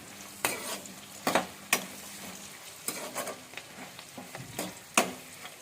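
Green chillies fry in a pan while a spoon stirs them, a soft background sizzle broken by sharp metallic scrapes and clinks of the utensil against the pan at an irregular rhythm.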